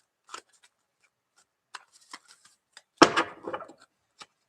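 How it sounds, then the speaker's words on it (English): Tarot cards being shuffled by hand: sparse soft taps and flicks, then one short, close riffling burst of cards, with no talking. "I'm having an unusual time with the shuffling here."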